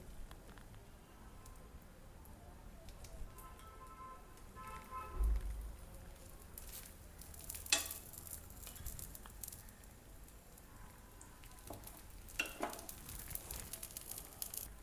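A fasting (upvas) dosa fries in ghee or oil on a pan, giving a soft, steady sizzle with scattered faint pops and clicks, quiet throughout.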